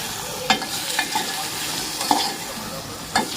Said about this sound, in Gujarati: ચલો વઘાર કરી દઈએ સરસ મજાનું.